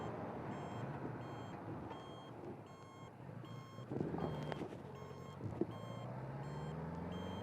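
A Honda Goldwing GL1000 motorcycle's turn indicator buzzer beeps in a steady, evenly spaced rhythm over continuous engine and wind noise while riding.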